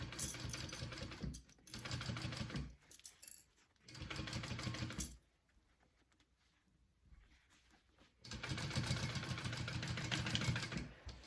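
A sewing machine stitches a zipper onto a bowler bag in three close bursts of rapid, steady whirring and needle clatter, separated by short pauses and a longer quiet stretch.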